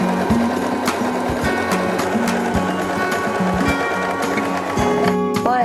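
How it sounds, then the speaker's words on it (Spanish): A Janome 2049 sewing machine stitches fabric with a steady, close mechanical whir, its needle beat pausing and restarting in short runs. "baja la palanca del prensatelas para empezar a coser"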